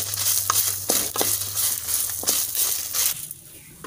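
Curry leaves hit hot oil in a pan, giving a continuous crackling sizzle with sharp pops and spattering bursts, close and fairly loud, settling toward the end.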